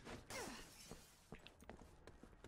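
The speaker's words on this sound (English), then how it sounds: "Let me just break this glass because I hate glass" Glass shatters in the Resident Evil 6 video game: one sharp crash with a descending tinkle, then scattered faint thumps and clatters.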